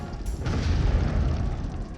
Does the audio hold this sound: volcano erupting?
yes